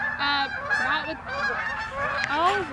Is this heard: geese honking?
yes